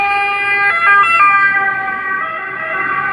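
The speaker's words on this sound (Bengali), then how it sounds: "হ্যাঁ, অ্যাম্বুলেন্স এই যে আসতেছে অ্যাম্বুলেন্স।" An ambulance siren wails loud and close in a rising and falling tone, then fades slightly as it moves past on a city street.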